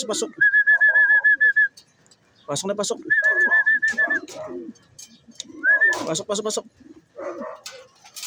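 Racing pigeons at a loft coo and warble in short bursts, with a clear whistle-like tone repeating over the birds while someone talks between and over the sounds.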